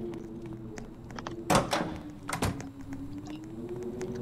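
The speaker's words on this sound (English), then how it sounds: "Opening all the doors." Doors opening in a spider-themed video game: a couple of close, loud thuds and slides in quick succession around the middle, over a steady low game hum with faint scattered clicks.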